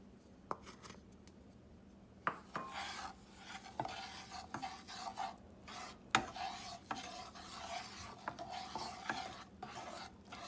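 Whole wheat atta is stirred into melted ghee flavored with cardamom for kada prasad, giving a close series of scraping, rasping strokes and soft clinks of a spoon against the pan, uneven in rhythm and with no talk.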